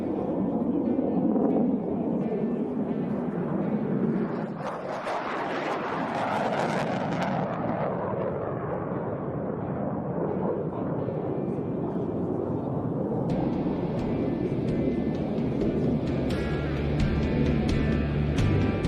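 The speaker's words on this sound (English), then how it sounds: "First to the perch, the F-16 Fighting Falcons, better known as the Vipers of the 64th Aggressor Squadron." F-16 Fighting Falcon fighter jets of an aggressor squadron flying at the Las Vegas Aviation Nation air show, a loud continuous roar of jet engines that swells and shifts as the aircraft pass, with no speech.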